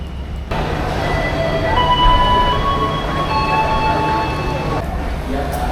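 A train rumbles steadily at Pasar Senen station in Jakarta, its low drone joined by thin high-pitched whining tones that rise and fade.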